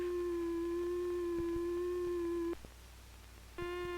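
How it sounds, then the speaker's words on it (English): A triangle-wave tone from an electronic oscillator holds steady and clean, with strong odd harmonics, for about two and a half seconds, then cuts out briefly before a brighter waveform starts. "Another oscillator produces a triangular wave."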